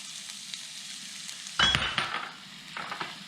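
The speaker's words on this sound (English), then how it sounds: "To this small fry pan I'm going to add some diced red onion" Diced red onion drops into a small frying pan and sizzles loudly at once, with a sharp burst of frying that settles into a steady hiss and a later clink of utensils.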